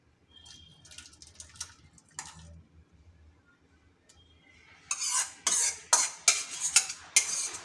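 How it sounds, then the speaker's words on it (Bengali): Cooked mango is strained through a sieve into a bowl, starting with soft wet scraping and clinks, then a run of louder rhythmic metallic scrapes and taps near the end, with no voices. "এবারে এই আমটা ছেঁকে নেব ভালো করে।"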